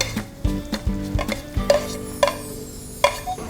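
Garlic and onion frying in butter in a pan, with bursts of stirring and clinking of a utensil over a steady sizzle, close up with no talk.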